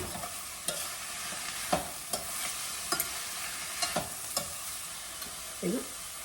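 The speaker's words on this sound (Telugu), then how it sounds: "ఇంకా ఉల్లిపాయలు వేసేద్దాం సన్నగా తరుక్కున్న ఉల్లిపాయలండి" Thinly sliced onions fry with ridge gourd in a pan, a steady background sizzle punctuated by regular, close spatula scrapes and knocks, roughly one every second, with no speech.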